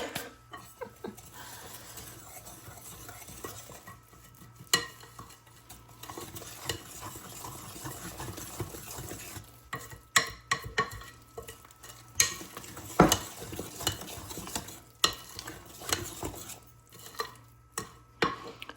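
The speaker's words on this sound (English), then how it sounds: "I'm just gonna give this a really good mix. Until everything is combined." Banana nut bran muffin batter is mixed briskly in a bowl, with irregular scraping and thudding strokes that grow more vigorous toward the end.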